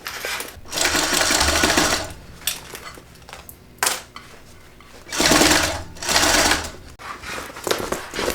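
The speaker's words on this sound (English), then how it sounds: "I'm going to sew this at about 1/2 of an inch seam allowance" A sewing machine stitches a seam at half-inch allowance in bursts, running loud and rapid for a few seconds, pausing, then starting again, with no talk.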